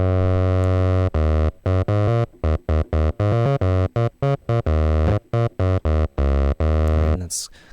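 A distorted single-oscillator synth bass on an Access Virus KC plays a loud, gritty, choppy riff of short staccato notes with gaps between them, the tone growing brighter and harsher toward the end.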